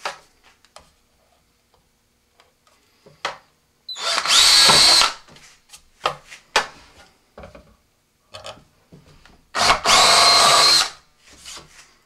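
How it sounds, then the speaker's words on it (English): A power drill drilling pilot holes in a model rocket's booster fin can whirs loudly in two sustained bursts, each a couple of seconds long, separated by quiet handling clicks and taps. "Just going to drill a couple of pilot holes and then enlarge them to about an eighth of an inch."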